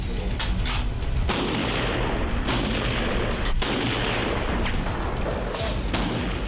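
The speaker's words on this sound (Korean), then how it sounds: "1일차 집체교육 0점 사격, 조준경 검사 사격 실시하겠습니다." Army sniper rifles fire zeroing shots at a 100 m target on a military range during sniper training, a rapid series of sharp cracks over constant loud wind and background noise.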